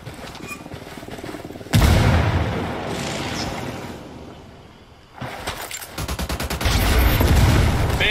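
A video game battle erupts with a loud grenade blast, followed by a long rumbling decay. Then come bursts of rapid gunfire and another heavy boom, loud and close, with no speech.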